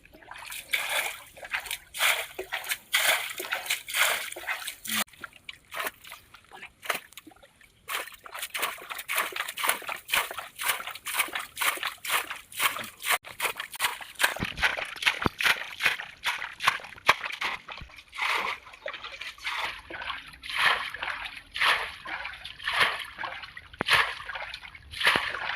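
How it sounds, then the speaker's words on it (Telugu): Water splashing and sloshing as a bucket bails it out to catch fish, with repeated irregular splashes and trickles, moderately close and sometimes quieter. "కొన్ని నీళ్ళు తీద్దాం"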